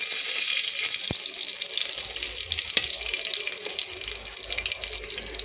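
Curry leaves and whole spices sizzle in hot oil in a pan for a vegetable pulao. The hiss is steady and bright, and two sharp crackles pop out near the start.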